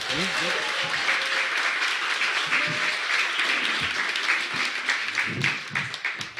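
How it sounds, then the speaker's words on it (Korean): A studio audience claps to welcome a guest onto a talk show, a dense, continuous patter of applause with a voice faintly underneath. "박수로 모시겠습니다."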